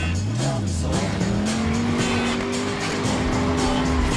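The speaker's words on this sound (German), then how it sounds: "Mit dem Auto um sich selbst drehen." A car spinning in tight circles in the driving game Driver San Francisco, its engine holding a steady high whine while the tires squeal continuously and loudly throughout.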